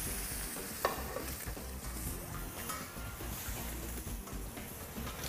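Meat sears in a pan of butter with thyme, a continuous soft sizzle and hiss with a few light crackles, heard close and fairly quiet with no one talking.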